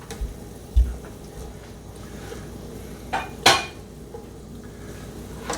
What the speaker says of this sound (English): Keep on working the pan.